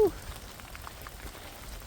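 Steady rain patters on a misty ridge trail while hiking Mount Agung in Bali, a soft continuous hiss with faint drops, no clear voices.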